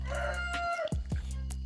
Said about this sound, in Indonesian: Itu ayam.